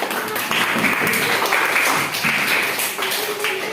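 Classroom applause from students in a teacher training session, a steady patter of clapping hands lasting several seconds at moderate loudness, with faint voices mixed underneath.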